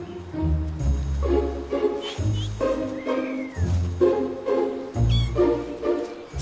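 A cat meowing and yowling in several loud, drawn-out calls close by, with short pauses between them.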